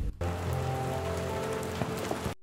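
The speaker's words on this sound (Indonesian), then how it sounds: "Fuyao, turun hujan, ayo pergi." Steady rain falling and pattering on a surface, a dense, even hiss of drops that holds at a constant level for a couple of seconds before cutting off abruptly.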